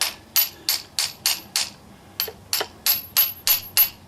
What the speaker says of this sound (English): but I believe I can take my hammer.